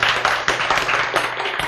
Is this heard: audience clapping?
yes